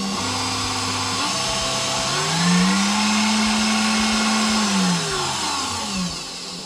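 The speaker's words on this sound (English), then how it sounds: "This repair was on a KitchenAid mixer. It's a professional 600 series." A KitchenAid Professional 600 stand mixer running after a worm gear follower repair, its motor whine rising in pitch as the speed climbs, holding steady, then winding back down, loud and close with no talking.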